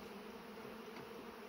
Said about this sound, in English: there's a lot of bees working hard